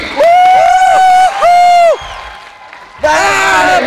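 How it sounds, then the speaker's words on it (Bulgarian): A crowd cheers and whoops in loud, shrill bursts with a short lull between them, at the 2010 Bulgarian NBL All-Star slam dunk contest in a basketball arena. "Вашите аплодисменти!"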